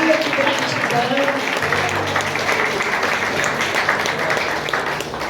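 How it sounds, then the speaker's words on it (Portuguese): A church congregation claps and applauds steadily through a worship service, a dense, continuous wash of clapping with a voice speaking over it. "Aplauda o Senhor Jesus."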